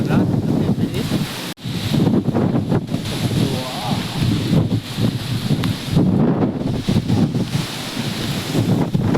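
Strong wind of a mini storm with rain sweeping through Chalala town, roaring and buffeting the microphone in loud continuous gusts with a brief dropout, a few faint voices mixed in.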